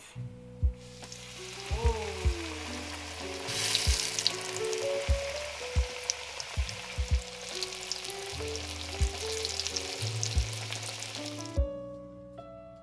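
Chicken pieces sizzle and crackle in hot oil for a crispy fried chicken burger, a steady frying hiss under background music with soft knocks and a brief exclamation.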